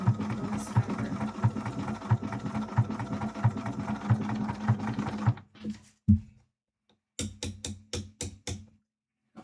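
Sewing machine backstitching cosplay fabric, needle running in fast bursts that stop and start, then a few short separate stitch pulses after a pause; close and clear with no talking.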